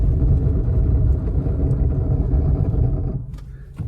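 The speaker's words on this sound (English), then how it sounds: "I'm gonna get up to speed a little bit and then we'll brake on the slush." A 2024 Mazda CX-30 braking on slush in the snow, with a loud continuous low rumble of road and engine noise inside the car that eases off near the end.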